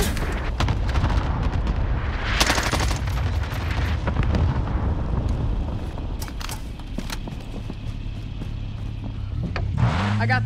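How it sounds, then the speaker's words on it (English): A cluster airstrike in a first-person shooter lands as a dense barrage of heavy explosions and crackling gunfire over a steady vehicle engine drone, with loud bursts clustering early and again near the end. "Call for fire. Target's marked. Got your request. I'll drive. Cluster strike is active."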